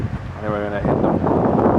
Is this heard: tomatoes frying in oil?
no